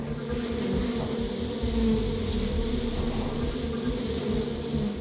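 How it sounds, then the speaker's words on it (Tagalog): A swarm of honey bees around a smoked beehive during honey collection, a dense, continuous buzzing drone held steadily throughout at close range. "Ang kumpol ng mga bubuyog"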